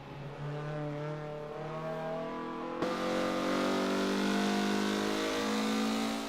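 A Mazda MX-5 engine revs hard and aggressively, the tone climbing steadily and then jumping to a higher pitch as it pulls through the gears, loud and close with no talking.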